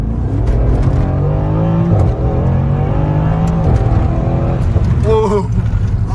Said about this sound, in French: Une petite accélération.